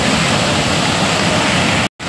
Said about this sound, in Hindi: ये देखिए पानी इस तरह से छोड़ा जा रहा है, ये बैराज है।